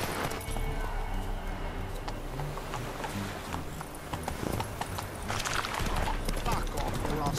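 Hooves of Roach, a horse in The Witcher 3: Wild Hunt, clip-clop in a steady galloping rhythm throughout, mixed with game music and voices speaking over it.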